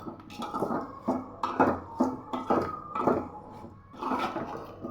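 A spoon clanks and scrapes against a metal pot while lentils, turmeric and rock salt are mixed for ivy gourd chutney, giving a series of irregular, fairly loud knocks and scrapes that sound close by.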